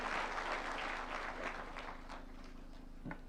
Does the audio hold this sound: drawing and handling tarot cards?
no